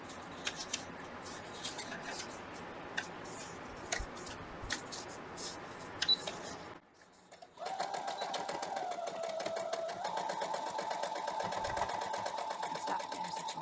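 Sewing machine stitching a foundation paper-pieced quilt block: scattered clicks and handling noises, a brief pause, then a steady close whir as the machine runs continuously to the end.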